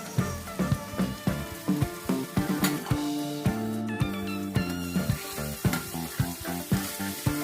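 Onion and tomato sizzle and fry in a pan close by, with rhythmic stirring clatters repeating throughout and no talking.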